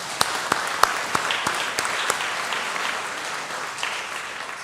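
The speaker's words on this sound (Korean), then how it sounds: "우리 감사한 마음 담아서 박수 한번 하겠습니다" Church congregation applauding together during a Sunday service, giving thanks after a shared meal was announced; steady, dense clapping from a room of people with a few sharper claps near the start, fading slightly toward the end.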